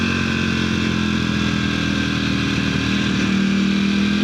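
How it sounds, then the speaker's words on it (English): A powerful motorcycle engine runs steadily and loud up close, a low droning idle with a slight rise in pitch near the end, with no voices over it. "This is such a vicious, powerful motorcycle"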